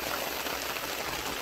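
Steady rain falls in a dense, continuous patter that fills the whole moment evenly, with no voices over it.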